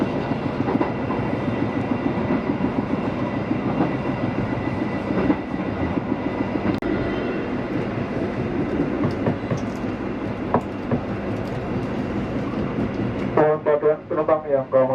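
The Argo Lawu passenger train rumbles along the rails with a steady clatter throughout, ending in a few higher tones like a chime or announcement.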